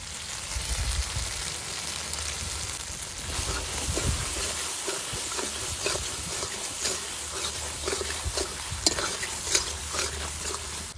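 Dry chili paste with black pepper fries in mustard hilsa curry over low heat, giving a steady bright sizzle with occasional spattering pops and soft stirring scrapes, close and continuous.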